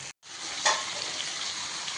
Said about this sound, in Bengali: এবার রসুন আর পেঁয়াজ ভালো করে ভাজা ভাজা করে নেব।